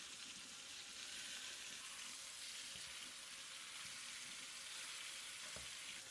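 Lamb shanks searing in a pan, making a steady broadband sizzle that fills the whole stretch at an even level, with a few faint clinks from the pan.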